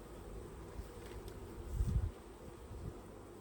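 Honey bees drone in an open hive in autumn: a low, soft, steady buzz that swells briefly near the middle, heard fairly faintly with no talking.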